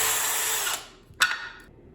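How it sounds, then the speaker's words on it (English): A power drill bores holes in a wooden drawer for pulls. It whines loudly, winds down, then gives a brief second burst before stopping. "then I can drill the holes and install these pulls"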